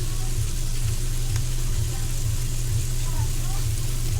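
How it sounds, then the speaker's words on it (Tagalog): Ginger, garlic and onion sautéing in a pan for turmeric chicken, a steady close sizzle running throughout with no pauses. "So, luya, bawang sibuyas, gisa-gisa lang."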